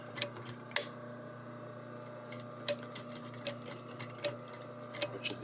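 A sewing machine back stitching a shirt collar makes quiet, irregular mechanical clicks and ticks over a low steady motor hum, heard close and alone.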